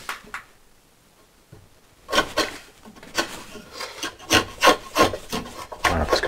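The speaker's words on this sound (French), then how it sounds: "je pense quand même que je vais passer un petit coup de ciseau pour juste" A wood chisel scrapes and pares at a wooden ladder built for a cat, giving a run of close, rasping strokes in quick bursts after a short quiet start.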